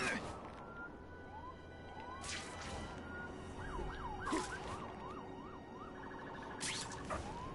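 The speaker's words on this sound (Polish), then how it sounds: "No jak mi ucieka ten radiowóz!" Wailing police car siren in the video game The Amazing Spider-Man 2, rising and falling tones sweeping up and down amid busy city game noise and short whooshing effects, fairly close and continuous.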